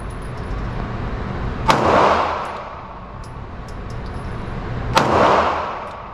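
A Staccato C pistol fires 124-grain CCI Speer rounds at an outdoor range, two sharp, loud shots about three seconds apart, each followed by a rolling echo over steady background noise.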